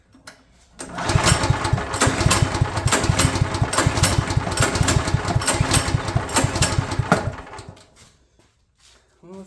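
A Champion generator engine, started for the first time in years, runs with a loud, rapid chugging that holds for about seven seconds, then cuts out and falls quiet.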